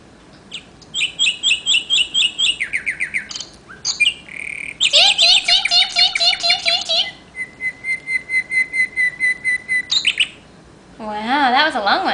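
Electronic birdsong plays close by: bursts of repeated chirps, trills and whistles in rhythmic phrases with short pauses, ending in a warbling call.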